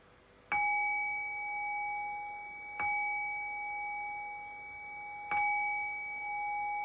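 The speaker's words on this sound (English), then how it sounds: "I'll cue that by ringing the bell 3 times" A meditation bell rings three times at evenly spaced intervals, each strike a clear sustained tone that lingers and slowly fades in a quiet room.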